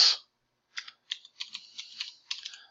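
Quick, light keystrokes on a computer keyboard, a short burst of about a dozen close clicks after a brief pause, with no talking.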